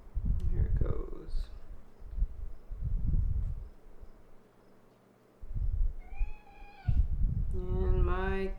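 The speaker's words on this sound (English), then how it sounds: "And my kitty has entered the room." A house cat wanders into a room and gives a few short meows near the end, close and clear, while a person talks earlier and crickets chirp softly behind.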